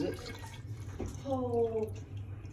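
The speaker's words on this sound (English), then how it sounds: "Go ahead and put the grains in. Just let it drain off. Don't squeeze it." Spent porter grain bag held over a home brewing pot, left to drain without squeezing, water dripping and trickling steadily into the liquid below, close and fairly quiet over a low background hum.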